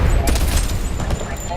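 Dense, rapid gunfire bursts from the 007 First Light video game crack and rattle loudly and continuously, with a voice mixed into the din.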